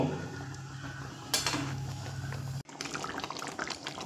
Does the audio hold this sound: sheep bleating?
no